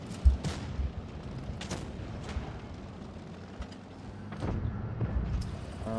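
Tank cannon fire in the mobile game World of Tanks Blitz, ranked battle with a Progetto 46: a sharp boom near the start, then several more distant thuds and blasts spaced irregularly over a rumbling battle background.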